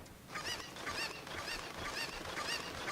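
Chickens in The Legend of Zelda: Ocarina of Time give a run of loud, repeated squawking clucks with no voices on top, the flurry coming in quick bursts that sound close by.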